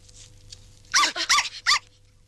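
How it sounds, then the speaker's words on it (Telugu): A puppy gives a quick run of about four short, high yaps and whimpering barks, close and fairly loud against a quiet background. "కుక్క పిల్ల"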